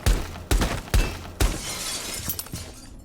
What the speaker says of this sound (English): Now we're going to break the glass and see what you can hear,